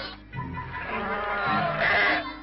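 Several sheep bleat loudly and overlapping at close range as they are pushed into an anti-scab dip bath, with a voice talking briefly in the background.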